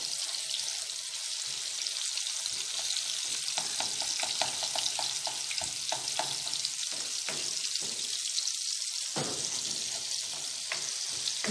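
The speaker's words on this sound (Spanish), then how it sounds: "Vamos a ver que se frite un poquito más y después vamos a echar el arroz." Chopped onion and tomato fry in a pan for rice in a home kitchen, giving a steady, loud sizzle with scattered stirring scrapes and faint clinks throughout.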